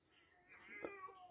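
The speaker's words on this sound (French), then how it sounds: "il y a un chat qui miaule vraiment fort à l'extérieur" A cat meowing loudly outdoors, heard faintly from indoors as a single short drawn-out meow over quiet room tone.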